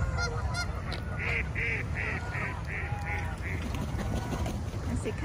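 White birds on open water give a run of repeated honking, goose-like calls, about eight in quick succession, fairly close over a steady outdoor background rumble.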